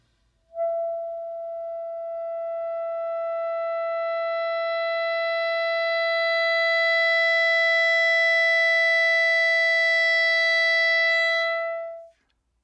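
A single sustained clarinet note, a long tone held for about eleven seconds, starting quiet and swelling steadily louder before stopping cleanly.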